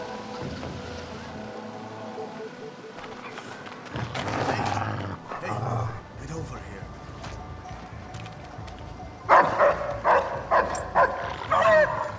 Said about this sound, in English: dogs are indeed back, and they can be pretty tough to deal with